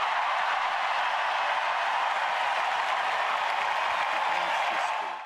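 A large outdoor crowd at the Platinum Party at the Palace cheers and applauds, a continuous dense wash of clapping and roaring held steady for several seconds before easing slightly.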